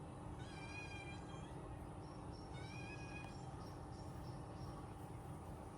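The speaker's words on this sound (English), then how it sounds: "You always on my leg now, this kitten." A kitten meows twice outdoors in Ghana, two drawn-out thin cries with a short gap between them, fairly faint against a constant rushing background noise, with no speech.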